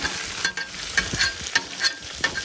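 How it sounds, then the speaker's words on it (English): Peppers and potatoes shallow-frying in oil on a Blackstone griddle, a steady close sizzle broken by several sharper scraping stirs, with no talking. "Getting the oil going, getting a good shallow fry."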